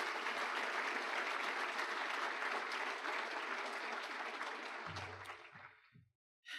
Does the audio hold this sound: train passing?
no